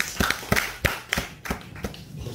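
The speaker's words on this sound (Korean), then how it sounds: "박수 한번 주세요" A handful of separate, fairly quiet hand claps, about one every third of a second, from a small audience at a small-business news reporters' team gathering, heard against a soft room background.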